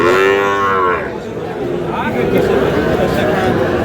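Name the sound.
cattle mooing, Sahiwal breed bulls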